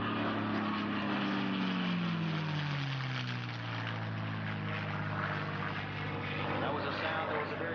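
A P-51 Mustang fighter, the Big Beautiful Doll, roars at an airshow with a steady, loud piston-engine drone, its pitch sliding downward as it passes, while someone talks over it.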